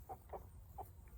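A few short, soft clucks from heritage-breed meat roosters sound one after another over a low background rumble.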